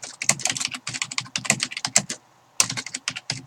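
Rapid computer-keyboard typing, close and crisp, in quick bursts of keystrokes with one short pause before the clicking resumes.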